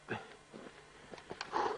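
Husky sled dogs outdoors give several faint, short whimpers and yips in quick irregular succession, close by but soft, with no talking.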